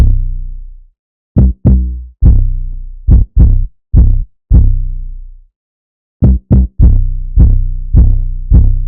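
Deep booming 808 bass drum hits in a syncopated bounce-beat pattern, loud and sustained with pitch-tailing decays, two phrases separated by a short gap.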